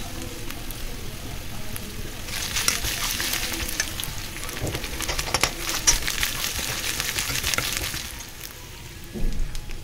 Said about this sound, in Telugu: వేసుకొని అది పచ్చి వాసన పోయేదాకా బాగా ఫ్రై చేసుకున్నామండి.